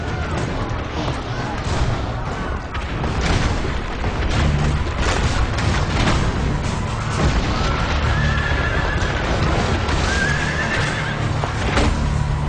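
Horse neighing and galloping hoofbeats in Assassin's Creed Brotherhood, heard amid loud game battle noise with booms and a dense, continuous mix, and voices speaking over parts of it.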